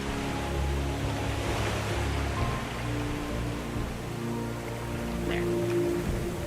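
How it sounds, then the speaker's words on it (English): Heavy ocean waves in the survival game Raft, a constant loud roar of surf and rushing water around a drifting raft, with someone briefly speaking over it. "Some big heavy waves we got"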